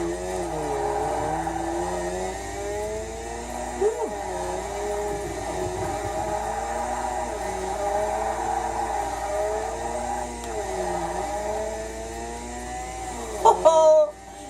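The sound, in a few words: Mazda Bathurst R rotary car engine in Forza video game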